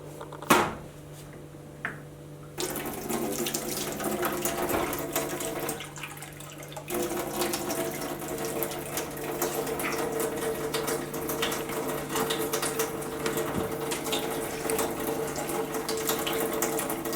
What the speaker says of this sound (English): I'll do what I set out to do and top up his water